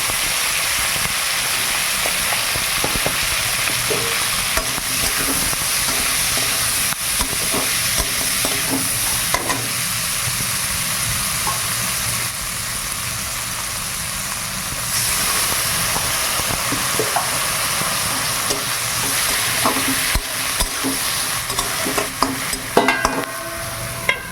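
Bitter gourd coated with salt and turmeric sizzles in hot oil in a village kitchen, a continuous loud hiss with occasional stirring scrapes and pops.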